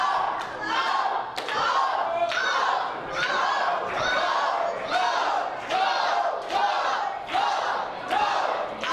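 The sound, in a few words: wrestling event crowd cheering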